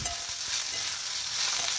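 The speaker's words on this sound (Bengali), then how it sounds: "দিয়ে এবার সব কিছু মিলিয়ে একসঙ্গে ভাজছি" Potatoes, tomatoes and other vegetables are stir-fried in a pan: a brief, bright, continuous sizzle with a few soft stirring knocks underneath.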